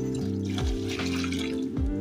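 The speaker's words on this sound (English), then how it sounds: "So we want to pour in our light ash into the caustic" Light ash poured into caustic soda that has soaked for a week, for making laundry tablet soap: a steady liquid trickle and splash runs through the short clip alongside a low mechanical hum, with no talk.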